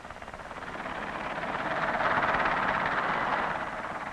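A Bristol Belvedere 192 tandem-rotor, twin-engine helicopter flies past, a steady whirring rotor drone with fast pulsing chop that swells louder midway and then eases off slightly, fairly distant.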